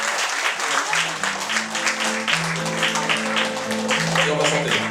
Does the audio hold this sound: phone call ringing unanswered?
no